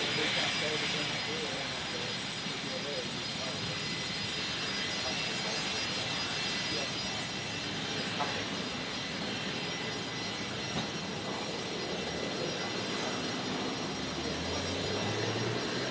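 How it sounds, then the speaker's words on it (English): Jet engines of a Singapore Airlines Boeing 747 freighter arriving at Brisbane Airport, heard as a steady, distant broadband roar that holds throughout with faint background voices. "the 747 of Singapore Airlines, the freighter, poking its head out any moment now"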